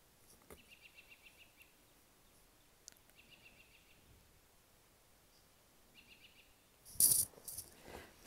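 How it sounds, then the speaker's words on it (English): Birds in snowy woods at the end of March, a few short high chirping phrases well off in the distance, faint and spaced apart, with quiet gaps between them and a louder rustle near the end. "you can hear the birds that are singing in the woods here."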